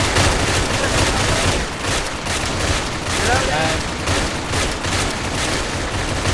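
Dense, continuous automatic and rifle fire crackles throughout a firefight in the military video game Arma, sustained bursts filling the scene with no breaks.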